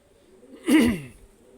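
Pigeons of the Kane breed cooing in a loft, a single soft throaty coo swelling briefly and fading, close by against a quiet background with no talk.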